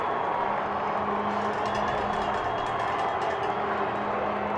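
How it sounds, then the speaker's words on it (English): High school football crowd in the stands at a Longview versus Vandegrift game making noise, a distant, steady roar of cheering with a low droning hum underneath, continuous and even throughout. "Longview crowd making some noise"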